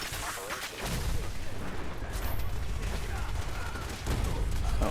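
Gunfire in Fallout 4, aboard an airship in survival mode, as a dense, continuous roar of shots and blasts, loud and close throughout.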